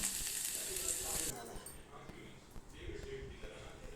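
A loud hiss and sizzle of hot oil bursts out at the start as a spice tempering goes in, then settles into a softer crackle under a voice.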